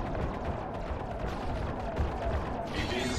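Spaceship combat in Star Citizen during a Vanduul Swarm battle: a continuous, dense roar of weapons fire and impacts striking a ship's shields, loud and unbroken throughout.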